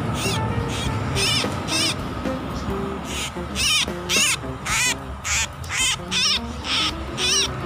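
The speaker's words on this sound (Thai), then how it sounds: "ไม่รู้เป็นนกอะไรเหมือนกัน" A bird of unknown species calls loudly from a tree in repeated harsh, cawing bursts over a noisy outdoor background, with short gaps between the calls.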